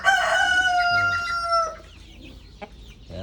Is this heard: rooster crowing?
yes